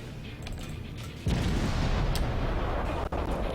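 Naval guns fire in the World of Warships video game as a heavy boom breaks over a rumbling battle backdrop, followed by a sustained roar and a second sharp report near the end.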